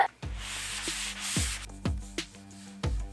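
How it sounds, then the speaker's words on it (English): A butcher block desk top is lightly hand-sanded, giving a steady, close, rasping scrub with a few sharp knocks as the sander or block meets the wood. "I just have to lightly sand it down"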